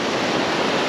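Steady broadband wash of waves in a small, gentle beach cove, continuous and fairly loud with no distinct breaks over the short stretch.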